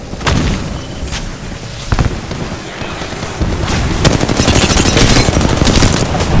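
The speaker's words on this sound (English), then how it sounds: "I'm getting shot." Heavy automatic gunfire from Apex Legends rattles loudly and continuously, with sharp shot bursts and booms building in intensity toward the end.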